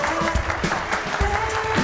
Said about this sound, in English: Don't stop clapping because now you have to clap again